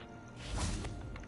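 A Revelio spell is cast in Hogwarts Legacy: a single short whooshing swell that rises and fades within about a second, fairly quiet, with no talking.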